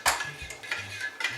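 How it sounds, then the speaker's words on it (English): A utensil stirring scrambled eggs in a pan gives a few close, sharp metallic clinks and scrapes against the cookware in a short, uneven sequence, with no speech. "This is how I stir it"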